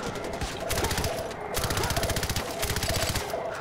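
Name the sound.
gunshots in the video game Far Cry 4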